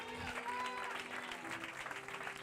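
A church congregation claps for a few seconds in a steady, dense patter that fills the room. A tonal musical sound carries underneath it.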